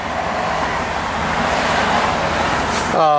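A 1969 Chevrolet Camaro SS with dual exhaust rumbles at a steady, low idle, a broad, even engine drone that is fairly loud and close, with a voice starting up right at the end.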